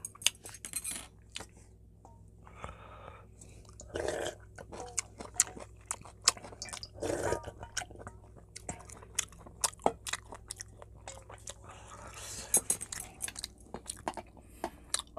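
Close-up eating of spicy Korean pollock stew: scattered bites, chewing and crunches mixed with clinks of cutlery and dishes, with brief breaths and short pauses between mouthfuls.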